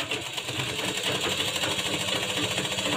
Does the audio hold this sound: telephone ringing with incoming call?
no